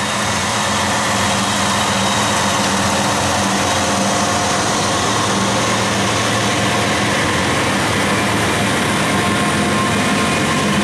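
A freight train with multiple locomotives and auto rack cars rolls past close by, a loud, steady, broadband roar and rumble of wheels and engines filling the whole stretch without letup.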